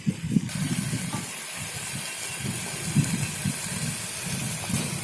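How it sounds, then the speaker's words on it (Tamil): A mushroom biryani masala paste sizzles and hisses steadily in a hot pan, with soft low bubbling underneath, continuous and close, with no talking. "அந்த பேஸ்ட்டும் சேர்த்து நல்லா வதக்கிக்கணும்."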